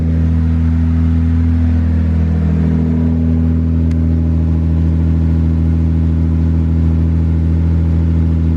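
A 1985 Toyota Supra engine runs close up after starting, holding a loud, steady hum with a deep low drone and a faint tick partway through.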